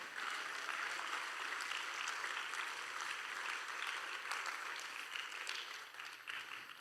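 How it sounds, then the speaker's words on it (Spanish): A church congregation applauds during a pastor's sermon, a steady, dense wash of clapping heard from a moderate distance. "Den un aplauso a Dios, hermano."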